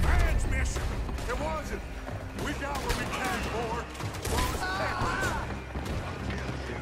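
Rapid bursts of gunfire in Red Dead Redemption 2, several sharp cracking shots in quick succession mixed with crashing impacts, loud and dense over a busy game soundscape, with people talking throughout.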